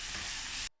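Chopped scallions frying in hot oil, a loud, dense, steady sizzle under a second long that stops abruptly into silence.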